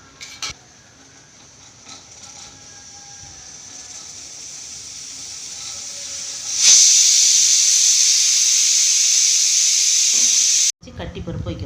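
A pressure cooker cooking dal lets out a sharp, loud, steady hiss of escaping steam that bursts on suddenly and holds for several seconds before cutting off abruptly, following quieter kitchen sounds and speech.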